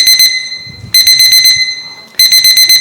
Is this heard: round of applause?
no